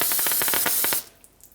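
A can of brake cleaner sprays onto the front wheel hub of a 2016-2022 Honda Pilot in a series of short pulsing hisses followed by one longer burst, loud and close, then cutting off to quiet.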